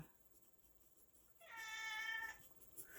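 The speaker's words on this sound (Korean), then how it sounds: "우리 고양이가 울고 있어." A house cat meows once in a single drawn-out, tonal call, faint and nearby, with no talking over it.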